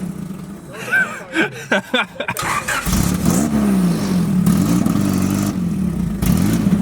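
Honda-powered street legal buggy starting to drive, its engine rising into a sustained revving drone with varying pitch as it pulls away, preceded by brief clattering knocks and a voice.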